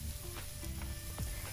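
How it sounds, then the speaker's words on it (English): Steak sizzling in a hot non-stick frying pan without oil or butter, a steady close crackle and hiss with small pops. "Can you hear the sizzle?"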